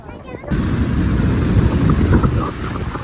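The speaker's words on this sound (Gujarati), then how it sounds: "દરિયામાં એકદમ જોર પવન છે અત્યારે" Strong sea wind at Dwarka buffets the microphone with a steady, loud roar after a brief quieter opening, with rolling surf mixed underneath.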